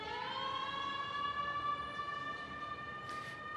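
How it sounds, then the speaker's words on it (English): An emergency siren passes along a New York City street near Verdi Square, its steady wailing tone holding fairly faint and distant for a few seconds during an outdoor festival. "I'll let this siren go by."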